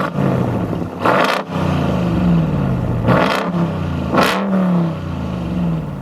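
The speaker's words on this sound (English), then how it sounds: "I dubbed the sound of a Ram TRX on top" A Ram TRX engine revs hard several times, each loud rising roar climbing then falling back to a steady idle rumble between, close up and alone with no talking.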